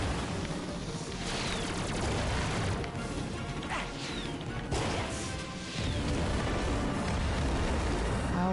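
Explosions and crashing impacts in Ratchet and Clank gameplay, a dense, loud, sustained barrage of bursts, smashes and debris with a few sharp hits standing out from the continuous noise.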